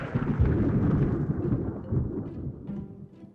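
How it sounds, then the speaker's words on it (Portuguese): Thunder rolls in a deep, heavy rumble that swells at the start and slowly fades away over a few seconds, with no talk. "Dessa vez demorou bem mais pra gente escutar o trovão depois que viu o raio."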